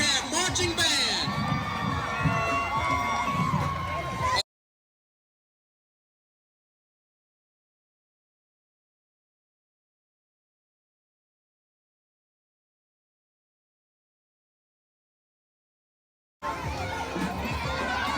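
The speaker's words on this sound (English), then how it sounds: "a big round of applause for the Long Beach High School Bearcat Marching Band." A crowd at a boat parade in Long Beach, Mississippi cheers and shouts, with children's voices prominent, for a marching band. There are two loud bursts separated by a long stretch of total silence.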